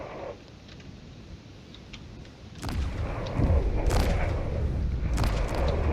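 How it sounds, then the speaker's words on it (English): Railgun shots in a space battle video game, a few sharp booming impacts after a quiet start, landing amid rumbling low background noise. "they're trying to fire as many railguns as they can"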